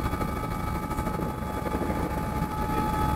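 Steady, loud helicopter rotor and engine drone heard from inside the cabin in the Canadian Rockies, continuous and close, with no voices over it.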